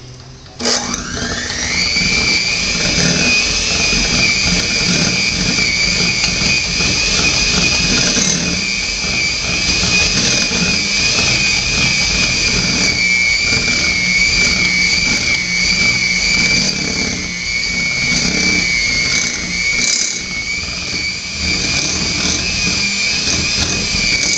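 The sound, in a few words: electric mixer beating dark brown sugar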